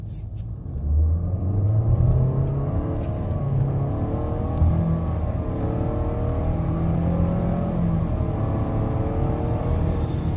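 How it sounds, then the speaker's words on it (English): A Nissan Altima 2.5 SV with a CVT pulls hard in sport mode, a steady engine drone rising in pitch as it revs higher, heard from inside the car with no talking. "You'll see it's like mimicking shorter gear ratios, and it gives more acceleration."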